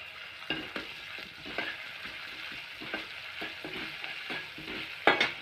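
Fennel seeds, ginger and garlic crackle and fry in hot oil in a pan, a steady sizzle broken by repeated spoon scrapes and a sharper clatter near the end, with no talking.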